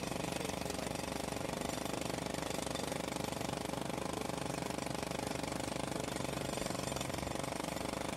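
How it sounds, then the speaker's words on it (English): Jackhammer pounding nearby in a fast, unbroken rattling hammer with an engine-like drone beneath it, steady and moderately faint throughout. "There was a jackhammer going on."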